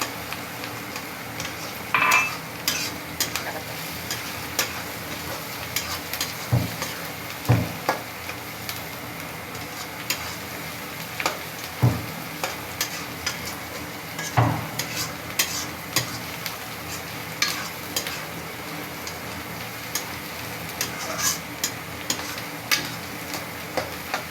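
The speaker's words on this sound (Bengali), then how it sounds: "ভালো করে ভেজে নিতে হচ্ছে পেঁয়াজটা। ভাজতেছি" Onions frying in a pan while being stirred, a continuous close sizzle broken by repeated scraping strokes and light knocks of a spoon against the pan, with no talking.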